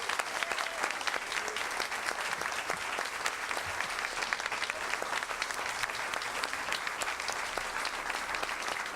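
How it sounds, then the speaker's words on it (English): Steady, dense applause from a large audience at an evening school board candidate forum, continuous and even throughout with no pauses. "Please give them a round of applause."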